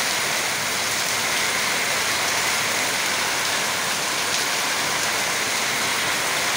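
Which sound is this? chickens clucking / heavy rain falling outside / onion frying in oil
heavy rain falling outside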